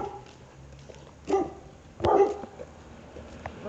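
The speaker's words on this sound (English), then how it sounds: "That's called a dog." A dog barks twice at moderate distance, two short sharp bursts about a second apart, over a quiet indoor background with no talking.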